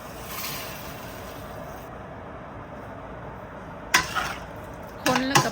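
A spoon stirs pork in a pot for a Lao salad dressing, giving a couple of short scraping, clinking bursts near the end after a quiet simmering hiss.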